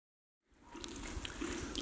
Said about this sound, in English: listening to water coming through the tunnel walls